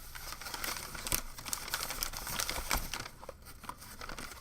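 Plastic packaging crinkling as a Gumdrop Begleri and Basecamp Sherpa are unboxed, a quiet close run of irregular crackles and rustles with no talk.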